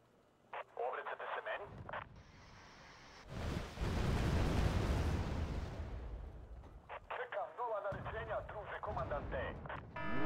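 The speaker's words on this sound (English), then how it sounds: "It's a Leclerc shooting at me." A Leclerc tank firing in Wargame: Red Dragon gives a heavy, sustained roaring blast that swells and rumbles for a few seconds, framed by bursts of clattering gunfire before and after, with a voice talking at moments.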